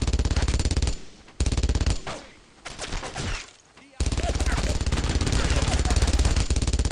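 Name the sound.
MG42 machine gun firing in Brothers in Arms video game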